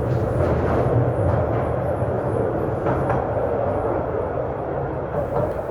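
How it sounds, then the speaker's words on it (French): A train rolling on rails at a mine, a continuous close rumble with faint rhythmic clicks over nearly six seconds. "le premier train roule sur les rails."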